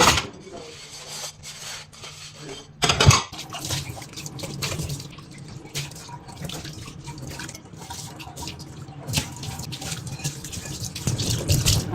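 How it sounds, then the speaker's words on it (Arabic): Dishes being washed: running water from a tap, scrubbing and rubbing, and occasional clinks and knocks of kitchenware, with a brief louder clatter early on. "ماشي نصفي المواعين"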